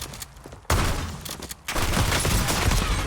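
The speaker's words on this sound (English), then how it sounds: "2 shots, ambush with a shotgun" Shotgun blasts ring out in the Warzone video game: two loud sudden reports, each followed by dense, sustained rattling gunfire and echo, with a brief lull between them.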